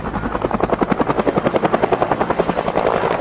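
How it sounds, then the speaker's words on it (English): A helicopter close by and loud, its rotor beating in a fast, steady chop that thickens toward the end, during a flight that ends in a hard touchdown; no voices. "This helicopter pilot accidentally touched the ground a bit too hard."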